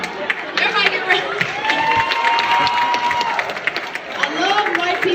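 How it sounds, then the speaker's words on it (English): Live college comedy tour crowd at UMKC cheering and clapping in a sustained burst of whoops and applause, loud and continuous, with scattered shouts rising above the din. "Cheer. Make a cheer."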